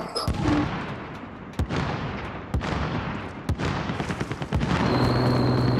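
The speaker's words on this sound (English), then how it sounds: "assault rifle here." Gunfire in Call of Duty: Modern Warfare: sharp, scattered assault rifle shots ring out against a dense, rumbling battlefield din, a few isolated reports standing out before a steady tone enters near the end.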